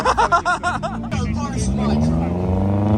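A BMW E46 M3 engine runs on a chassis dyno, its tone climbing steadily as it revs up after a burst of nearby voices talking over it.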